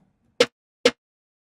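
A stock snare layered with an octave-down double strikes twice in even succession, each hit loud, punchy and fat with a quick dry decay and silence between.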